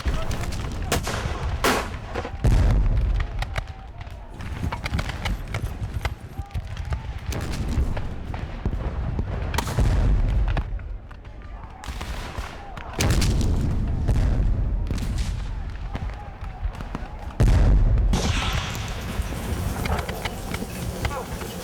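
Cannon and gunfire at a Civil War battle reenactment, with repeated heavy booms and crackling shots spread over the scene, loud and close, mixed with shouting and talking voices throughout.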